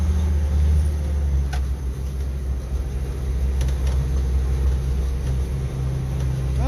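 An old, creaky Jeep engine runs steadily during a short drive with a slack, worn steering wheel and an accelerator pump that seems faulty, giving a continuous low rumble that stays close and fairly even throughout.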